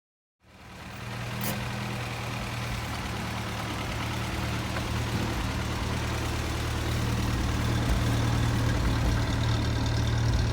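A Willys Jeep engine idles with a steady low rumble after starting up, running evenly and close by for several seconds with no talking.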